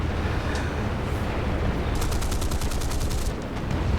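A rapid, steady burst of heavy aircraft cannon fire from four cannons in War Thunder, during a night air attack, rattles off in quick succession, loud and close, then cuts off abruptly.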